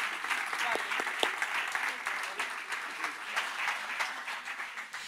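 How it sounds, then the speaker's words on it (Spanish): An audience at an international congress performance breaks into sustained applause, a dense crackle of many hands clapping at moderate distance with no pauses. "Y antes de que aplaudáis, que sé que os pide el cuerpo aplaudir"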